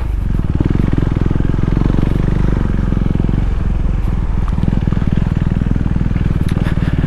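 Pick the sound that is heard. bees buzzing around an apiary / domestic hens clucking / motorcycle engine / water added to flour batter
motorcycle engine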